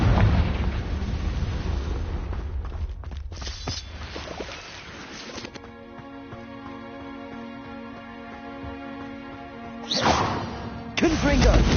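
Confringo fire-blast spell explosions in the Hogwarts Legacy video game, with bursts and a whooshing blast up front, a tonal stretch in the middle and loud blasts returning near the end, over game sound and a speaking voice.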